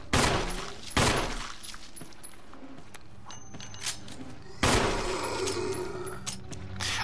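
Loud shotgun blasts go off in the Resident Evil video game, Jill's campaign: a sharp boom at the start, another just after, and a heavy third blast midway, each followed by a lingering rumble against a busy in-game backdrop.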